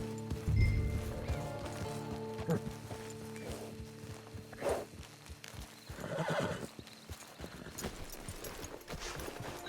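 A horse in a video game snorts and neighs with scattered hoof clops and light movement, heard at moderate distance while people talk over it.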